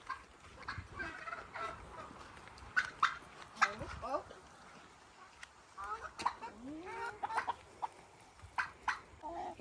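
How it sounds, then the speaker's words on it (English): Chickens clucking around a farm coop in July, irregular bird calls rising and falling at moderate distance, with people talking and moving nearby. "Let's go to the chicken."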